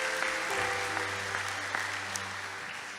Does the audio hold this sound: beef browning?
no